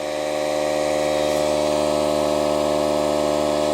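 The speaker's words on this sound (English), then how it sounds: "these DeWalt tyre inflators really handy" A DeWalt cordless tyre inflator pumps air with a constant buzzing, mechanical drone, close and steady throughout without pauses.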